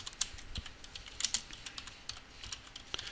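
Crisp, close clicks of a computer keyboard in quick irregular bursts, sharp individual key taps over quiet background, no speech.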